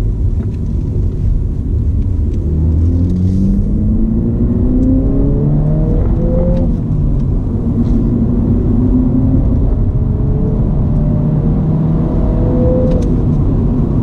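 A 2019 Mini JCW Knights Edition engine revs through downshifts, a steady loud drone with rising and falling pitch sweeps that repeat over about fourteen seconds, heard from inside the cabin with no talking.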